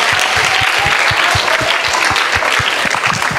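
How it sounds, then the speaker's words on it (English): A school audience at a self-image workshop gives a round of applause, a loud, dense and sustained burst of many hands clapping close by throughout, with no speech over it. "Give a round of applause."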